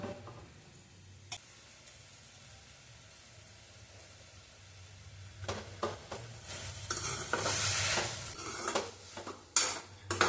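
Drumstick leaves sautéing in a pan for a thuvaiyal, with a quiet low sizzle at first, then louder stirring, scraping and a sharp clink against the pan in the last few seconds.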